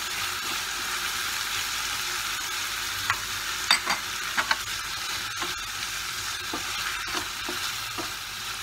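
Sliced tomatoes being stirred into frying onion and capsicum masala for a vegetable bajra millet pulao: steady close sizzle with a few sharp scrapes and clacks of a spoon against the pan, no talk.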